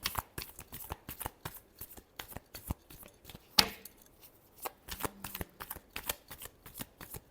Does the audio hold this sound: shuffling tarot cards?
yes